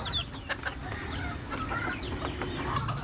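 A hen clucks near her chicks as they are fed, with high chick peeps and other birds' calls over a constant low farmyard murmur.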